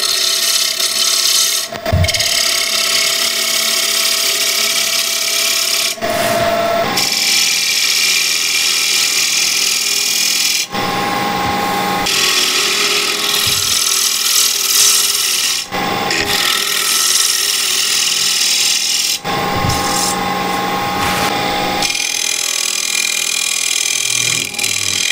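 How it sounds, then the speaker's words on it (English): A Kais gouge carves a walnut wood cube in long rasping strokes, scraping repeatedly with short pauses between cuts, loud and close throughout. "So this is the new gouge, the Kais"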